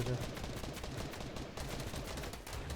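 Gunfire crackles through a Fortnite match, dense repeated shots packed into a loud, continuous stretch, with a few voices talking faintly underneath.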